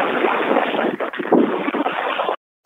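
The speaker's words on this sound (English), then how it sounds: "Here goes the wind again." Wind gusting hard over a boat out on breezy water, a loud, rough, continuous buffeting roar that cuts off abruptly near the end.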